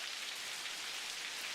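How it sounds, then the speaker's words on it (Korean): Rain sound effect in a horror radio drama, a dense, steady hiss of rain falling on a surface, close and even throughout with no talking. "빗소리가 들렸다"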